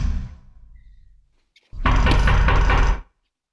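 A fading rumble gives way to silence, then a loud, close burst of rapid knocking on a door lasts just over a second before stopping abruptly.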